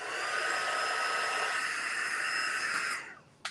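A heat tool blows steadily over a scrapbook layout, a close constant whooshing whine for about three seconds before cutting off, followed by a short click.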